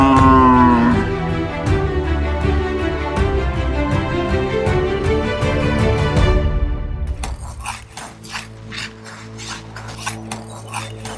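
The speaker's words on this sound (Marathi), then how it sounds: "अरे ते वासरू. चल." A calf moos with a long, loud, drawn-out bellow that slides in pitch, followed by scraping and clattering sounds.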